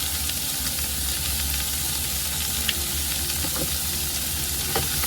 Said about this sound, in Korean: 그리고 다시 볶아줘요.